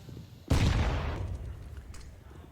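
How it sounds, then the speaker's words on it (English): A high-explosive grenade detonates in Counter-Strike during a BLAST Premier 2020 match: one sudden loud broadband blast with a rumbling low tail that decays over about a second, then faint game ambience. "It's an okay nade. 15 damage."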